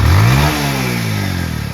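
A Hero HF Deluxe motorcycle engine revs up sharply, then the pitch drops back as it settles toward idle, heard close and loud.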